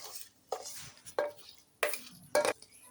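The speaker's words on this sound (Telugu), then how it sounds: "ఇలా తాలింపు వేసుకొని నీట్గా బొరుగులన్నిటిని కలుపుకోవాలి" Soaked puffed rice being tossed and mixed with a spiced tempering in a basin, a few distinct scraping, rustling bursts spaced unevenly, close and moderately soft with no talking.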